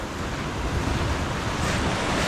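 Sea surf on the Tasmanian coast rushes in a continuous, loud wash of breaking waves, mixed with heavy wind buffeting the microphone.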